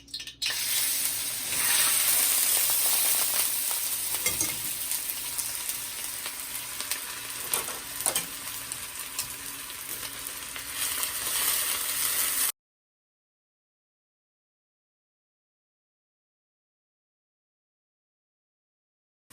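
Vegetable stir-fry noodles fry in a pot with a steady, close sizzle that runs for about twelve seconds, with a few brief stirring or scraping bumps, and then silence.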